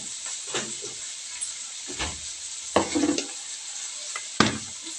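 Homemade ginger garlic paste dropped into a hot pan, hissing and sizzling softly with steam, broken by a few sharper crackling bursts and faint clinks of a utensil against the pan.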